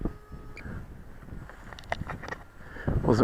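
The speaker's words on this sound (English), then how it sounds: "Christ, that wind is picking up." Strong, gusty wind buffets the microphone outdoors during a model plane flight, a steady low roar with louder surges near the end and no speech.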